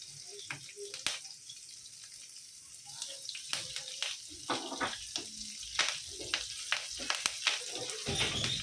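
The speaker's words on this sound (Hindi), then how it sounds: "अभी जीरा डालेंगे, अभी करी पत्ता डालेंगे" Cumin seeds and curry leaves dropped into hot oil, a close crackling sizzle with sharp spitting pops that build over several seconds, with faint kitchen sounds and no clear talk.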